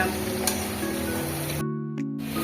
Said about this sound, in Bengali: এইবার আধ ঘন্টা ধরে নাড়াচাড়া করে ভালো করে ভেজে নিতে হবে